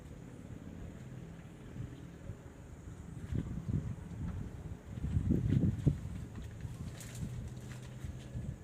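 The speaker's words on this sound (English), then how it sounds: "It's got windy, isn't it?" Steady wind rumbles and buffets the microphone throughout, swelling into stronger gusts in the middle, with faint distant noises behind.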